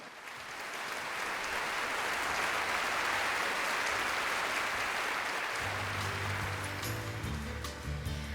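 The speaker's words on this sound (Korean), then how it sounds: "박수로 맞이하겠습니다." Applause rises from an audience at a Korean Gaecheonjeol cultural festival, swelling into a broad, steady clapping that holds for several seconds; low musical tones start underneath it partway through.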